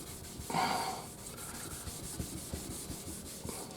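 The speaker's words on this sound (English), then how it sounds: "this way I get a nice cut, nice even cut of the abrasive across the surface." Abrasive compound is rubbed by hand across a Mojo Strat guitar body, a close dry scrubbing sound in repeated strokes, strongest near the start and then settling into lighter rhythmic rubs.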